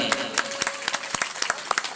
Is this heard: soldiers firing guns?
no